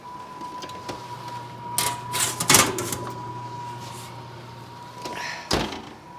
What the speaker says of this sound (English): I'm just going to use this pizza peel to get it out of the oven now